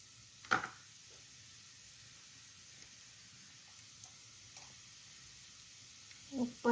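Butter sizzling as it is spread over a dosa on a hot griddle: a faint, steady hiss with a few soft scrapes and taps, one sharper clatter near the start and a couple near the end.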